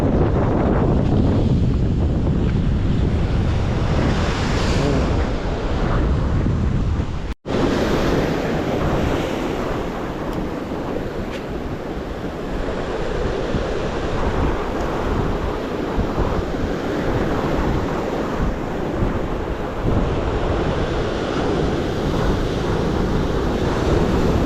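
Strong northeast monsoon wind roars across the microphone while waves crash and surge along the shore, a loud continuous wash of surf and gusts that barely drops for the whole stretch.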